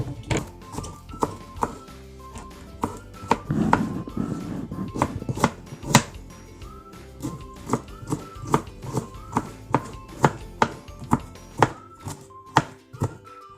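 Steady, repeated knife thuds on a cutting board as herbs are chopped, close and rhythmic, with faint music playing underneath.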